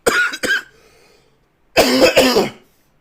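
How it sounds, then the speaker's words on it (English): Two bouts of harsh coughing from a person ill with COVID, a short double cough, then a longer, louder cluster of chesty coughs after a pause, close and with no other talk. "the coughing is really annoying"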